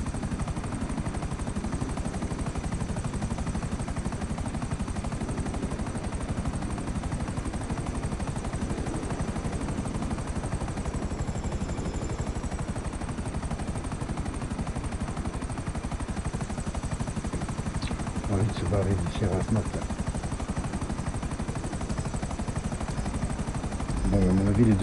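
Helicopters flying in GTA V Online give a constant, loud rotor and engine drone throughout, with a few brief bursts of gunfire near the end.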